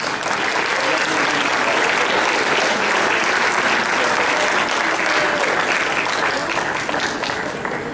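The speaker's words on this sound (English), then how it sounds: "please give them all a round of applause" A crowd at a cosplay convention claps loudly for costume contest entrants, a dense, continuous roar of applause that holds strong for the whole stretch, close and full.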